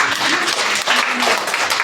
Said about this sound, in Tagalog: Sa malakas sa palakpak sa Diyos